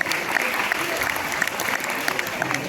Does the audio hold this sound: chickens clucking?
no